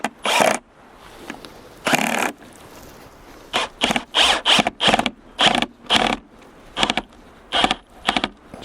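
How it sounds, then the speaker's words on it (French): A drill drives a screw into wood in a series of loud, close bursts, several short stuttering pulses with brief pauses between them, and no talking. "Je vais prendre la même vis et je vais la visser ici."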